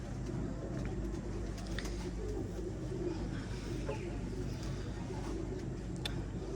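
Pigeons cooing in a loft of Kasur breed birds, soft low coos over a steady background hum and rustling, with faint voices nearby.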